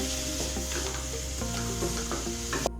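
A masala mixture with garam masala sizzles in a pan while it is stirred, giving a close, steady frying hiss broken by repeated scraping strokes and a final clink.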